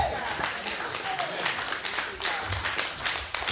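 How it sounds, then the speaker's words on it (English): A church congregation clapping hands in praise at a Resurrection Sunday service, a dense rhythmic patter of many hands sustained throughout, with voices mixed in. "So clap your hands and give God praise."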